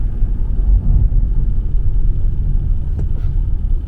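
A used Toyota Camry running on injected LPG gas drives along a road, its steady low engine and tyre rumble continuous throughout, heard from inside the car with no talking and a brief faint click near the end.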